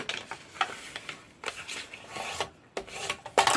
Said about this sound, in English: I'm going to fold and burnish the 2-inch score lines on all 4 sides.